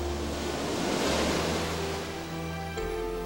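Surf washing steadily onto an undisturbed stretch of white sand beach, a continuous broadband roar with a gentle swell around the middle, steady wind noise underneath, and no voices.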